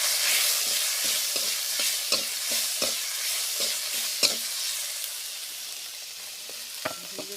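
Tomatoes and ground spice paste fry in a pan for a fish head curry, a bright sizzle under repeated spatula scrapes and taps that come in an irregular rhythm.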